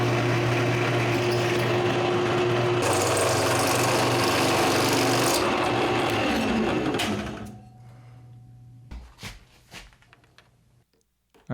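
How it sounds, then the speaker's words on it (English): Power drill boring screw holes in a Goncalo Alves wood block plane body, a loud steady whine running several seconds before stopping, followed by a few scattered clicks and knocks of handling. "I can go ahead and drill for my screw holes."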